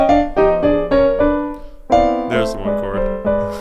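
A jazz piano sounds the one chord in a particular jazz voicing, struck repeatedly in a loose rhythm with some held tones, close and clear, and a brief voice surfaces near the end.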